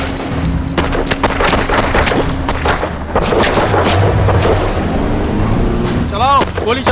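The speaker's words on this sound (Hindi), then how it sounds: "चलाओ, गोली चलाओ, इसे छोड़ना मत।" Sharp gunshots and booming blasts in an action movie scene, crackling rapidly over heavy low rumble, with a vehicle moving in the mix.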